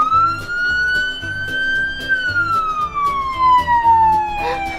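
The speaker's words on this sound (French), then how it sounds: "Ouais! C'est la sirène!" A toy's siren button plays a police-style wail that rises and falls smoothly over a looping electronic tune, loud and close, with a brief excited voice near the end.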